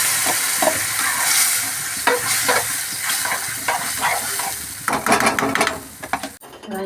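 Browned onions frying in a pan with a loud, continuous sizzle and bursts of stirring and scraping, close up, cutting off abruptly at the end.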